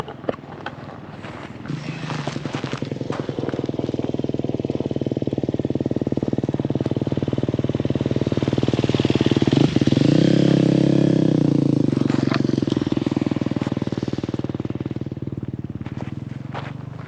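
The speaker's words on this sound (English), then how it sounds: "Hold on, motorcycle coming up." A motorcycle climbs a washed-out dirt trail in a hillside park, its engine building from a distant drone to a loud, close pass and then fading away.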